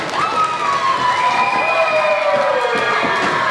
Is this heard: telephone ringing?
no